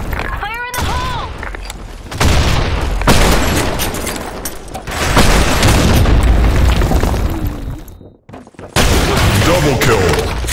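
Grenade explosions in a video game: loud, heavy booms with crackling gunfire bursts, one after another over about ten seconds with a brief drop near the end, and a voice calling out over the blasts.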